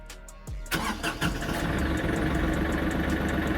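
A Kioti NS6010 tractor engine cranks briefly and catches, then settles into a steady, loud idle close by, with no talking.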